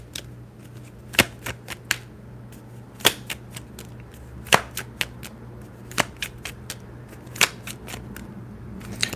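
Tarot cards are shuffled close up, giving sharp, irregular snapping clicks over a quiet, steady background hum.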